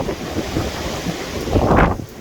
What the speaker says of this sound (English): it's a bit windy outside.